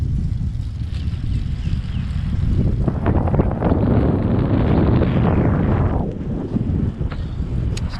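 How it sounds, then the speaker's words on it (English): Strong wind roars and buffets the microphone while riding a Canyon Endurace CFSLX road bike, a loud continuous rumbling rush that swells in the middle and then eases slightly. "windy day"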